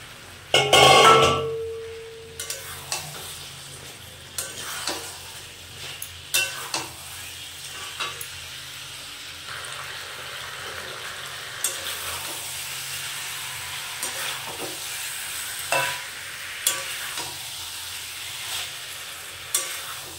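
Boiled potatoes and young jackfruit tipped into spiced masala frying in oil for an enchorer kalia, a loud clatter as they drop in, then a steady sizzle with intermittent spoon stirring and scraping.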